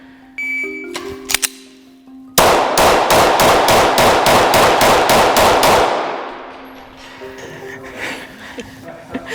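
A rapid string of about a dozen gunshots fired in quick succession from a handgun, loud and close, evenly spaced over several seconds with brief ringing echo after, preceded by quieter clatter and handling sounds.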